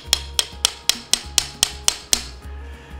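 A knife being driven through a venison chop is struck about nine times in a steady rhythm, each blow a sharp close knock followed by a brief dull thud.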